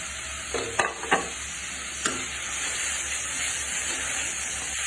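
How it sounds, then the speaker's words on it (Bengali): Garlic paste and green chili hit hot oil in a pan, a steady hissing sizzle with a few sharp clinks and scrapes of a spoon early on, then an even crackle. "এখন আমি রসুন বাটাটা দিয়ে দিচ্ছি সাথে কাঁচা মরিচটাও অ্যাড করে দিলাম"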